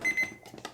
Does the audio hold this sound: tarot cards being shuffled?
no